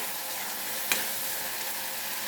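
Tomato and onion cook in a pan with a soft, steady sizzle close by and one brief stir or scrape near the middle, quiet and with no voices.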